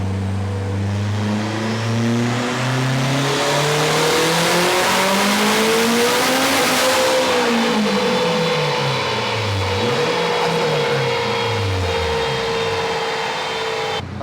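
A turbocharged eighth-generation Honda Civic engine revs hard on a dyno, its loud, steady roar climbing in pitch through a long pull, briefly dipping and rising again, then holding high near the end.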